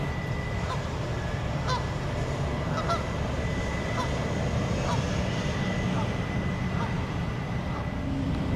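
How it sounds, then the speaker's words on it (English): Geese honk over a continuous loud background rumble, with short repeated calls scattered through a steady noise bed. "See, what are the geese up to today?"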